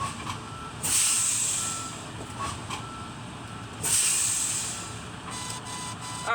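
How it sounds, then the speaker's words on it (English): A truck's low air warning buzzer sounds during an air brake test, coming in two loud, steady, high-pitched bursts separated by a pause, over a constant hiss and engine rumble. "I'm going to see a buzzer or hear a buzzer"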